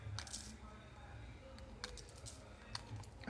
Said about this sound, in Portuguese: eu vou usar uma tesoura